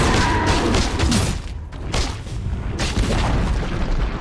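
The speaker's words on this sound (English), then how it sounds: "Dire's middle tower has fallen." A tower collapses in Dota 2 with a loud, rumbling explosive boom followed by crashing debris and heavy thuds, the blasts repeating in waves over a dense game soundscape.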